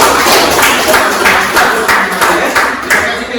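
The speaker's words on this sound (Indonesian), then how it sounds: "Mari kita tepuk tangan untuk ini." A room full of people claps hands in a loud, sustained round of applause, with a rhythmic pulse running through the close, dense clapping.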